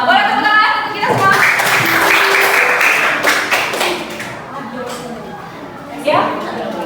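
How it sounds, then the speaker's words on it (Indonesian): A classroom group claps in a burst of applause lasting a few seconds, then fades. A voice speaks over it, and a short second round of claps follows near the end. "Boleh tepuk tangan untuk kita semua."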